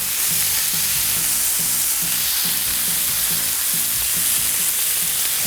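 Hash browns fry on a Blackstone griddle with a steady, loud sizzle and rhythmic scraping as they are moved around the flat-top, with no talking.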